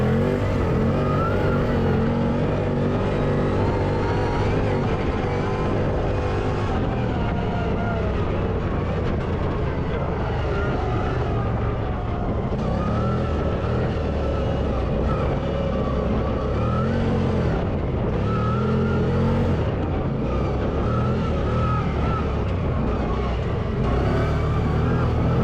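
A CFMOTO Z-FORCE 800 side-by-side roars and revs hard while drifting, its engine loud and continuous with rising and falling pitch and tire and chassis noise, no talk over it.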